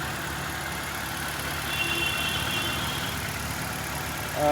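A 2001 Nissan Sunny car's 1300cc engine idles with a constant, smooth low drone close by, a small swell midway and a brief louder bump at the end.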